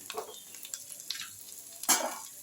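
Onion, garlic and a dried red chili fry in a pan, a quiet crackling sizzle broken by a few soft stirring scrapes and one louder stir near the end.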